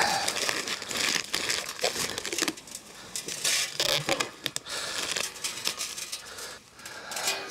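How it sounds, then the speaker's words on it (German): Protective plastic film peeled off a metal ring of a double-ring infiltrometer, a device for measuring soil water permeability: continuous close crinkling and crackling with sharper tearing rustles, loud and alone throughout. "Der hatte sogar noch seine Folie drauf, die ich jetzt mal abmachen kann."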